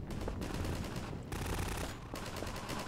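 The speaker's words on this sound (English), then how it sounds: "Looks like they're having another gunfight over that way" A distant gunfight in the video game Half-Life 2: rapid bursts of automatic gunfire crackle steadily for the whole stretch, with brief lulls between volleys and no voices.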